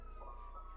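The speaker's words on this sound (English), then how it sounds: "You can probably hear this siren." A steady electronic video game siren tone holds at a fixed pitch, loud and continuous, with no voices.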